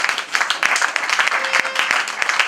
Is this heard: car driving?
no